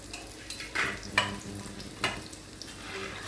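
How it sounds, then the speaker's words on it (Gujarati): Small pieces of Sindhi pakoda, already cooked once, refrying in very hot oil, giving a steady crackling sizzle with a few sharper pops and stirring bursts. "અને પછી એને એકદમ ગરમ તેલમાં ફરી તળી લેવાના છે"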